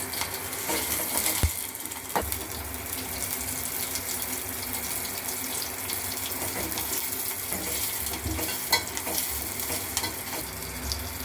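Onions and curry leaves fry in oil for gongura pachadi, making a steady close sizzle and hiss, with a couple of sharp knocks early on and intermittent stirring scrapes throughout.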